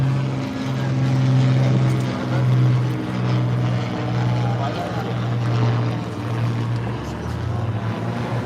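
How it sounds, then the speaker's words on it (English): A propeller seaplane passes overhead at a seaplane fly-in, its steady droning engine hum swelling and fading slightly as it goes by, with people talking faintly nearby. "That was a nice flyby."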